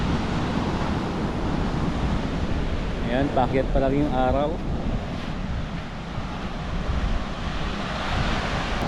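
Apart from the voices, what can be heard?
big sea waves in strong amihan wind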